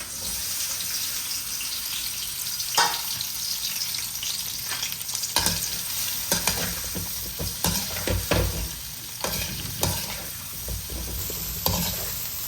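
Brinjal frying in sesame oil with masala, a steady close sizzle broken by frequent scraping and clattering stirring strokes, with a running-water sound in the background.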